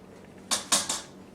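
A spoon stirs clam chowder with potatoes in a pot, striking and scraping the metal three times in quick succession over a quiet background.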